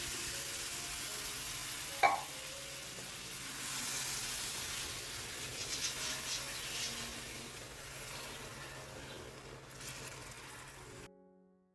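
Water poured into roasting semolina for helva sizzles softly in the pan, a faint hiss with a small splash near the start, then settles into quiet frying.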